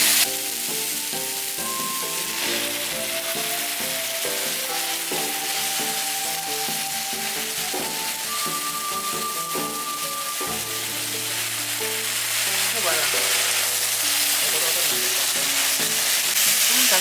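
Dried pumpkin and eggplant stir-fry in a pan, sizzling steadily throughout while a tonal hum runs underneath, with the frying noise growing somewhat louder toward the end.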